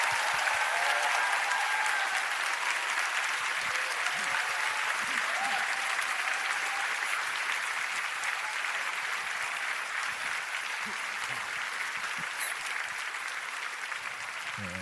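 A church congregation greets the pastor's entrance with thunderous applause, a broad, continuous wash of clapping from a large crowd that holds steady and fades slightly toward the end.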